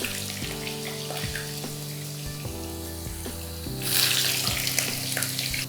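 Potato lids fry in hot oil with a continuous bubbling sizzle that swells louder toward the end, under a faint background hum.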